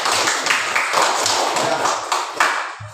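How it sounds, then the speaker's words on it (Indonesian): A classroom of students clapping in applause for a student group, a dense patter of many hands, close and fairly loud, with a few low thumps near the end. "Ya, tepuk tangan dulu untuk kelompok melatih."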